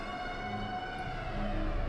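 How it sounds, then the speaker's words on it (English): A wailing air raid siren in the horror video game OctoberMind drones steadily in the distance, layered over a dense, low ambient rumble with no voices. "I do not like air raid sirens at all."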